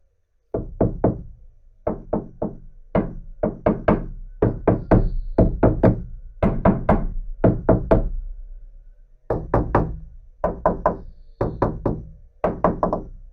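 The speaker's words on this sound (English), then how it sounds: "And the knocking test." Knuckles rap a Nissan Patrol Y61 roof panel lined with sound insulation, producing loud, close, dull knocks in quick clusters of three to five, repeated steadily with short pauses and no talking.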